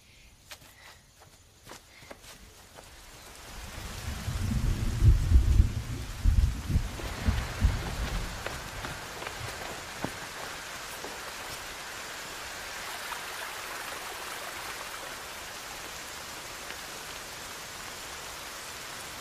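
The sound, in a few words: rain falling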